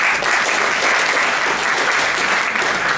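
Loud, dense applause from an audience at a one-day awareness programme on intellectual property rights, a steady unbroken clatter of many hands with no talking.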